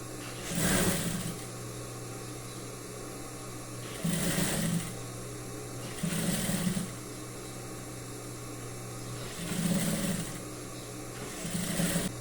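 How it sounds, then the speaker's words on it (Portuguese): A sewing machine stitches folded bias binding onto a pair of lingerie briefs in short bursts of a second or so, about five evenly spaced runs over a steady background hum, with no one speaking. "vamos pegar esse viés e vamos dobrar aqui, ó, pra fazer esse acabamento, tá? E vamos costurar."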